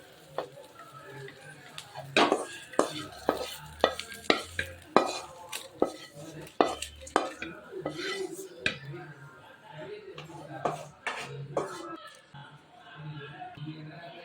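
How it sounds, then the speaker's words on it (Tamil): Coriander leaves, curry leaves, coconut, tamarind and chilli sautéed together in a pan for urad dal chutney, with busy irregular spatula scrapes and clatters against the pan, close and lively, and a voice talking in places. "கொத்தமல்லி இலை கருவேப்பில் இலை தேங்காய் புளி மிளகாய் எல்லாம் ஒன்றா போட்டு வதக்கிடலாம்"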